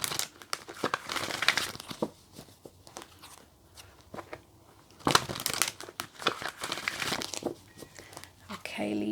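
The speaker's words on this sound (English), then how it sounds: "Let's give it one more shuffle." Oracle cards are shuffled by hand in a quick run of crisp crinkling, riffling rustles that swell and fade across the clip, close and fairly clear, with a voice speaking intermittently in the background.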